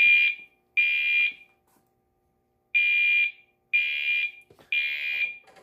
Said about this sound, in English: Can we do a drill and ring an alarm?